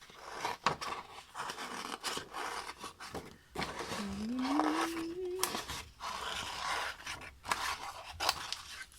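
Scissors snipping paper for a scrapbooking card, a few short close cuts and rustles, with a voice briefly speaking in between.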